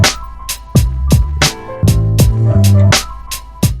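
Simple sampled beat played on an MPC Live II: punchy kicks and bright snappy hits in a steady looping rhythm over deep tonal bass notes, loud and close with no talking.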